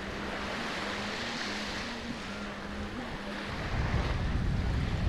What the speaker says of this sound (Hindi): हवा बहुत तेज है, लहरें हैं